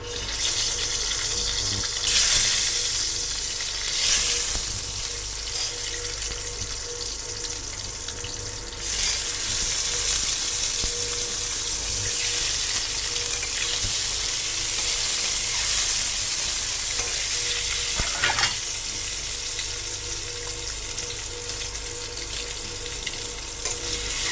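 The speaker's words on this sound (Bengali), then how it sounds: "ডিমগুলোকে ভালো করে ভেজে নিতে হবে।" Peeled boiled eggs fry in a pan with a continuous loud sizzle and hiss up close, broken by a few stirring scrapes and splashy surges of crackle, with no speech.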